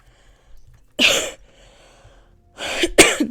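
Three sharp, close coughs: one single cough, a pause, then a quick pair, with near silence between them.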